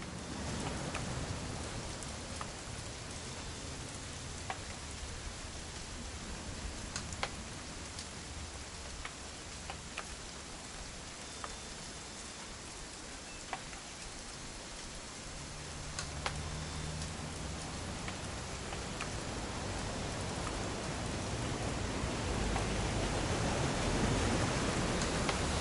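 Long, steady downpour in the game What Remains of Edith Finch, a broad wash of rain noise with scattered sharp ticks of drops, swelling slightly louder toward the end.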